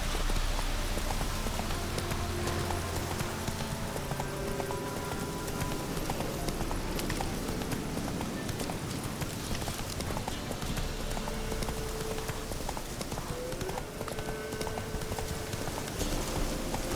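Horse hooves clip-clop steadily at a riding pace in The Witcher 3 video game, a continuous rhythmic trot under a dense game ambience with music.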